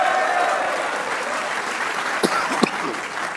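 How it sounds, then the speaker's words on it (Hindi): A studio audience applauds steadily after a Pakistan cricket loss to India, praising bowler Shaheen's performance, a dense continuous patter with a couple of sharper claps near the end and faint crowd murmur beneath. "एक बार इस परफॉर्मेंस पे शाहीन के लिए तालियां होनी चाहिए।"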